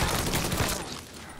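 Gunfire in Mafia III, a dense loud burst of rapid shots that fills the first part, then trails off into a fading rumble.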